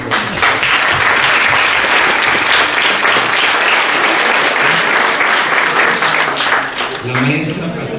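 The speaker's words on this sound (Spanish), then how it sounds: "para quien pido un aplauso, por favor" Loud, dense audience applause at an academic event honouring a UNAM researcher, sustained clapping from a large crowd filling the room, with a voice speaking briefly near the end.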